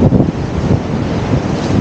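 Steady, blustery wind buffets the microphone while Caspian Sea waves roll and wash below the rocky coastal trail in Aktau, loud and continuous with no voices.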